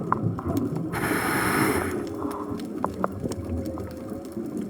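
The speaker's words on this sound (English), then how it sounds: "thank you for the whales. They sound really pretty tonight." Whale calls ring out underwater during a night dive, with a loud broadband burst near the start and faint tonal moans and clicks after it, all set against steady bubbling water noise.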